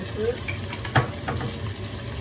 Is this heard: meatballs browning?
yes